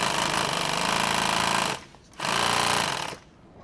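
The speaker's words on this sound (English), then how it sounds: "I'm just going to sew this really small" A sewing machine stitches nylon tactical gear in two rapid, loud mechanical bursts, each lasting over a second, separated by a short pause.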